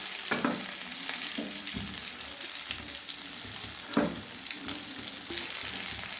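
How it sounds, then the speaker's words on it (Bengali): Steady oily sizzling of boiled potato pieces frying in a pan, with occasional scraping and stirring knocks, close and moderately loud throughout. "আলুগুলো আমি একটু ভেজে নিচ্ছি"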